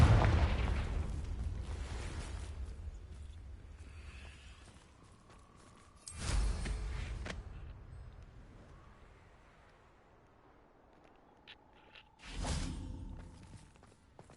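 Confringo blasting spell explosions in Hogwarts Legacy, three separate booming blasts spaced several seconds apart, each with a rushing decay, the first fading from a sustained roar, over quiet game ambience.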